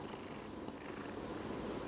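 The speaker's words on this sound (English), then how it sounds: "My cat just creeps up on me." A house cat purrs softly and steadily right up close, a low rumbling hum that continues without pause in an otherwise quiet room.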